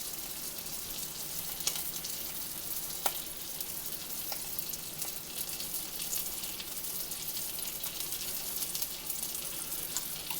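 Rainbow trout fry in butter in a frying pan, giving a continuous soft sizzle and crackle with occasional faint clicks, fairly quiet throughout.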